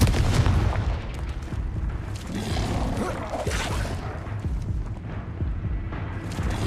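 Confringo fire spell from Hogwarts Legacy, a sustained blasting, rumbling burst of magical explosions and crackling debris that fills the whole stretch at steady loudness, with no talk over it.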